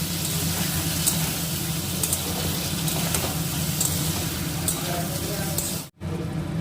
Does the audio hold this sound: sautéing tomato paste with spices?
yes